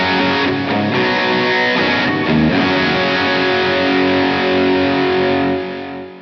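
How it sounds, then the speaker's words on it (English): Electric guitar run through a Line 6 HX Stomp with all effects engaged and out of a Bose speaker: loud, heavily distorted chords strummed and sustained for several seconds before fading, no speech. "This is the Bose with everything on."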